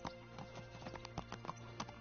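A horse's hooves clip-clop at a steady walking pace in the video game Kingdom Come: Deliverance, the distinct knocks coming every fraction of a second at a moderate, close level over a low background hum.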